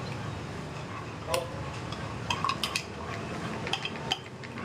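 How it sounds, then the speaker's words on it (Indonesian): A spoon stirs a hair-care mixture in a bowl, producing repeated light metallic clinks and scrapes at an uneven rhythm, close and moderately loud over soft background noise. "diaduk."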